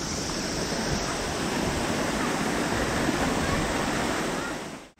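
A waterfall on Hakusan in Japan roars in a constant, dense rush of water close by, steady throughout before cutting off abruptly at the end.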